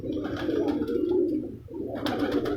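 A pigeon coos up close in deep, throaty rolling calls, a sustained burbling phrase that dips briefly and then resumes, loud and clear with no talk over it.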